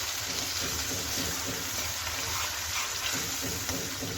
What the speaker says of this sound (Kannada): ಮಿಕ್ಸಿ ಜಾರ್ಗೆ ಒಂದು ಸ್ವಲ್ಪ ನೀರು ಹಾಕಿ ನೀರನ್ನು ಇದಕ್ಕೆ ಸೇರಿಸ್ಕೊಳ್ತಾ ಇದ್ದೀನಿ